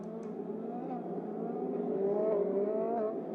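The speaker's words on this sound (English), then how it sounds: "Cars do get into grid, the Hublot safety car leading them away" Race cars at Mugello circuit roll behind the Hublot safety car with a steady, moderately loud engine drone whose pitch slowly rises as they pull away, the tone fairly distant.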